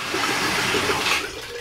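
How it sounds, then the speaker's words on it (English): Water rushes steadily from a tap in an RV bathroom sink, a continuous close hiss and splash lasting a couple of seconds and easing slightly at the end, with no voices. "I'm going to turn the water on."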